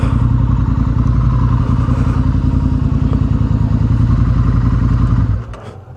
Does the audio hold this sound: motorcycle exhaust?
yes